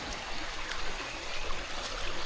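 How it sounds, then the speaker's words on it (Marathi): Rainwater runoff streaming through a farm field after heavy rain, a continuous close rush and trickle of flowing water, steady and unbroken with no talk. "बघा उपलेटीचं पाणी मस्त"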